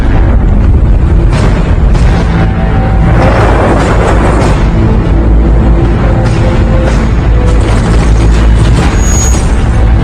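Explosions in a dubbed action film, with a car caught near the blasts: a dense, continuous roar of booming rumble and crackling debris, loud throughout, with no clear pauses between bursts.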